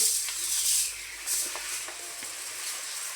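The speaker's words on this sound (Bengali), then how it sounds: "তো পোলার চালটা ধুয়ে নেওয়ার জন্য জালিতে ঢেলে নিব।" Polao rice grains tipped into a mesh strainer for washing, giving a soft, steady granular hiss with faint scattered ticks, quiet and continuous, with no voices.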